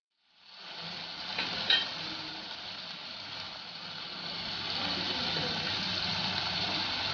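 A spoon stirs masala spices into Maggi noodles in a pan on the stove, making a steady sizzling hiss with scraping, with one brief clack near the start.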